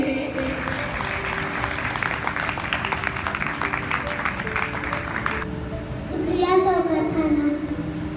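Audience applause for a child on stage at an iftar dinner and donation drive, a dense steady patter for about five seconds that then gives way to voices speaking.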